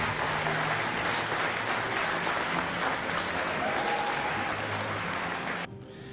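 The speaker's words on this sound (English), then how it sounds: "Let's give them a round of applause." An audience at a school mock trial event bursts into steady, dense applause, many hands clapping together at a constant level, with a faint tone running underneath before it drops off sharply near the end.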